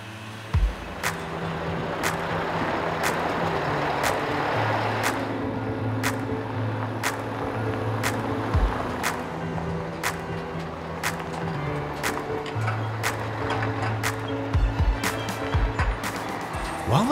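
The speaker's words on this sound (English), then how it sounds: "While the machines are travelling to the field" Large harvesting machines roll toward the field, a loud, steady engine drone with regular clacks and knocks throughout, and no voices heard.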